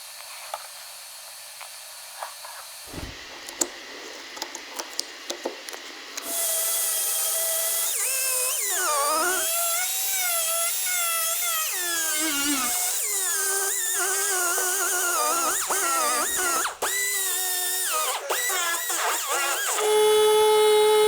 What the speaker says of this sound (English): For the most effective repair possible, it's important to weld the front and back side of the tabs.